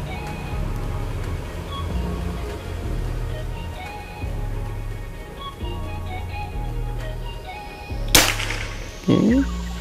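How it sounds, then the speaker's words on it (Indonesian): A Predator Tactical PCP air rifle fires a single sharp crack near the end of the clip, followed by a brief metallic ring, over a steady low background hum. "Tembakan ke-5 mas ya."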